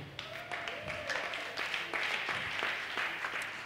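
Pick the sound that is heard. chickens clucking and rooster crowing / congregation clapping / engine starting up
congregation clapping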